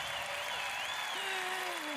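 Audience applause at the Eurovision Song Contest 2013 grand final, a dense sustained wash of clapping from a large crowd, with a voice briefly rising over it.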